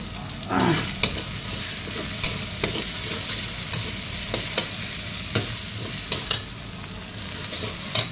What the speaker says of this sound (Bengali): এবার দিয়ে দিলাম কাঁচা লঙ্কা, এবং টমেটো।